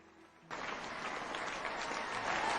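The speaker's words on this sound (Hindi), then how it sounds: "इनके लिए एक जोरदार ताली से वेलकम करें।" Loud audience applause welcoming a speaker at a presentation, starting abruptly after a brief quiet moment and continuing as a dense, sustained burst of clapping from a crowd.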